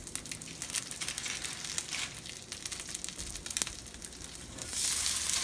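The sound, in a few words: chickpea burgers frying on a cooktop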